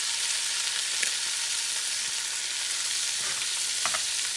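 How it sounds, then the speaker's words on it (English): Black-eyed peas are stirred into a hot, flavorful pot for baião de dois, a steady frying sizzle with a few soft scrapes and clinks from the spoon, close and without talk. "I'm going to add them straight into the pot. And I'm going to stir them"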